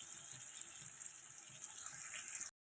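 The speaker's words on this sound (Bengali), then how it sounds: "1 বাটি জল দিলাম, গরম জল দিলাম" Hot water poured into a pan of fish curry, a steady close splashing flow lasting a couple of seconds before cutting off abruptly.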